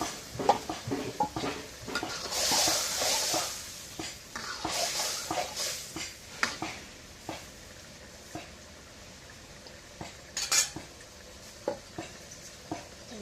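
Fish and tender bottle gourd stir-fried in a pan, with irregular spatula scrapes and clatter over a low sizzle that swells into brief bursts of hissing frying, no voices.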